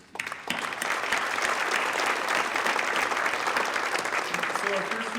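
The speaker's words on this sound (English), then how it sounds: "just a round of applause for the administration" A crowd at a high school scholarship awards night breaks into sustained, dense clapping that rises sharply after a brief moment and holds steady, with a voice faintly audible toward the end.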